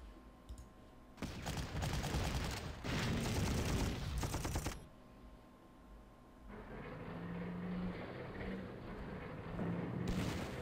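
Artillery fire in the Panzer Corps strategy game, set on the Moscow 1941 front: a dense rattling burst of rapid gunfire-like cracks, then a quieter stretch with steadier mechanical rumbling and faint tones.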